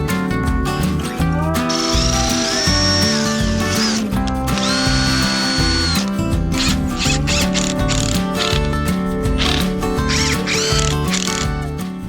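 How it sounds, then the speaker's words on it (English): A power drill drives screws into glued 2x4 boards, loud close bursts of whirring motor that rise and stop in quick repeated runs, with short gaps between screws and no speech. "Now, I'll glue and screw them together."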